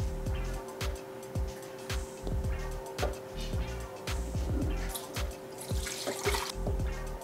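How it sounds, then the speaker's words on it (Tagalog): Coconut milk pours over mango pieces in a steady liquid trickle with soft drips and splashes, close and fairly quiet under low background hum, with no talk. "Tapos lagyan natin ng 2 cups of coconut milk."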